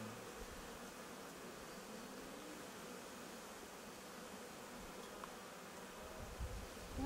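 A dense, steady buzzing of a large honeybee swarm fills the whole stretch, close and continuous, with no voices.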